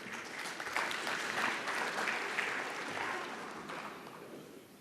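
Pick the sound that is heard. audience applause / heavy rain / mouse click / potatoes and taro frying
audience applause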